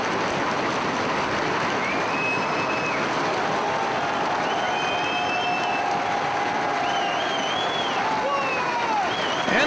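A wrestling arena crowd in Orlando roars with a constant, dense wall of cheering and noise, while faint whistles rise above it.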